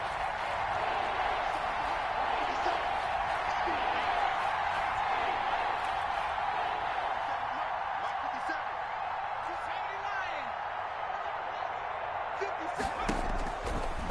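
Stadium crowd in a Madden 21 football game cheers and roars continuously at a big third down, a dense, loud wash of noise with scattered whoops and a sharp burst near the end.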